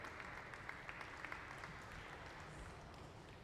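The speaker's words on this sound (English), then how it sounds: "Let's give them a round of applause for finishing the first piece of the day." An audience at a glassblowing demonstration in a museum hot shop gives a brief, faint round of applause, scattered clapping over a constant roar of background noise.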